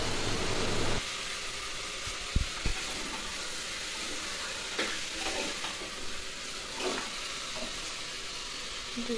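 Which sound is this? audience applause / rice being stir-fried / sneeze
rice being stir-fried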